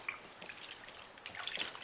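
Soapy water being splashed and stirred by hands while a silicone raceboat mold is dunked, giving close, light wet drips and trickles with a soft continuous sloshing.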